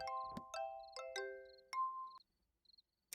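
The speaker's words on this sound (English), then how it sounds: "Silver bell-shaped flower also produces the mellow sound like that of a bell" A silver bell flower in a video game gives off a series of mellow, ringing bell-like chimes, several clear struck tones decaying in sequence, then a few soft high tinkles and a final brief ping.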